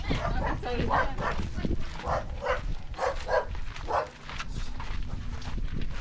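A dog barks repeatedly in short bursts, fairly close, amid a noisy room with voices talking around it.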